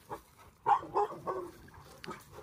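A dog in a pack being introduced to new puppies gives a few short barks or yaps, close by, in scattered bursts with some faint background noise and no talk.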